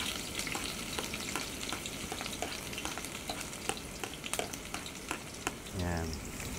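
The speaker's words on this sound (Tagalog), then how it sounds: "magigisa na tayo ng sibuyas tsaka ng bawang" Onion and garlic sizzle and crackle in a hot pan, with scattered scraping stirs over the steady frying; no one speaks.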